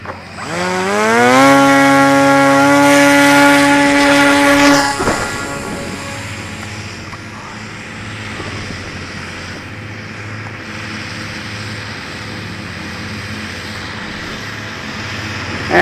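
A Volantex Raptor V2 FPV RC plane's electric motor climbs in a loud, rising whine over the first few seconds, then cuts off and leaves a fainter, steady hum and background noise.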